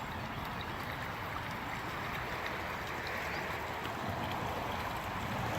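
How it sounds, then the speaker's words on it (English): Water flowing outdoors as a steady, even rush, heard at a moderate distance with no voices. "you're also hearing the water in the background"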